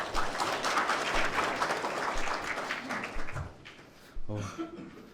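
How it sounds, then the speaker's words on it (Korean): Seminar audience applauding a speaker introduced at an ITS policy event, a dense burst of clapping that fills the room and then thins out, with talk rising over the fading claps. "여러분 큰 박수 부탁드립니다"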